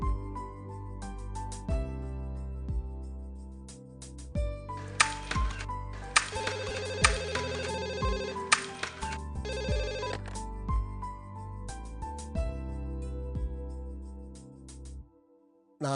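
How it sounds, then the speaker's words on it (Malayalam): A mobile phone rings after a number is dialed, a melodic electronic ringtone playing steadily for about fifteen seconds before cutting off abruptly, with no talking. "മോളൊരു കാര്യം ചെയ്യും, ആ മൊബൈൽ നമ്പറിലെ അതിലൊന്ന് ഡയൽ ചെയ്യും."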